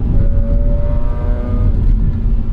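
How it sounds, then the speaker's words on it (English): The Wankel rotary engine of a 2004 Mazda RX-8 revs smoothly and loudly up close, with a steady, even whine that climbs slightly, and no talk over it. "God, I love naturally aspirated high revving motors. And with the Wankel rotary,"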